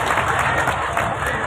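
An audience at a humorous Islamic lecture breaks into applause: a dense, lively burst of many hands clapping together, loud and sustained throughout with a crowd murmur underneath.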